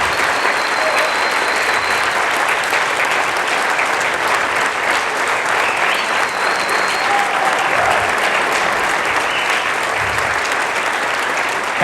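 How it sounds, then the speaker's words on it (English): Sustained, dense audience applause fills a keynote hall at the Spark.me 2022 marketing conference, steady and loud throughout with a faint murmur of the crowd beneath. "big applause, definitely."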